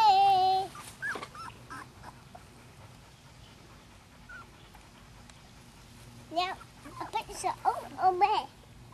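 Two-week-old wirehaired pointing griffon puppies whimper and squeal in high, wavering cries, with a burst at the start and a busier cluster near the end, and quiet stretches in between.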